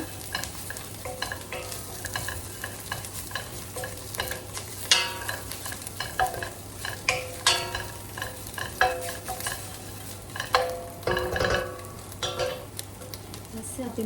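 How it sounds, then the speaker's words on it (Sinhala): Egg pasta ingredients with garlic stirred and fried in a pan, continuous sizzling and crackling with repeated scraping stir strokes, close and steady throughout. "දාලා හොඳට කලවම් කරගමු"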